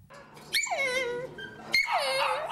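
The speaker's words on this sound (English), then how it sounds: "Many chihuahuas, like this one, are crying to be taken home." A chihuahua in an animal shelter lets out two long, loud, rising and falling whimpering cries, close by and with no talk over them.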